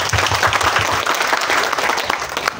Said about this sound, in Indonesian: Tepuk tangan buat Pak Bupati dulu